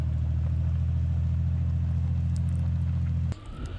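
Jeep Cherokee XJ in 2-wheel drive on icy off-road ground, a loud steady engine drone and low rumble that drops away abruptly near the end.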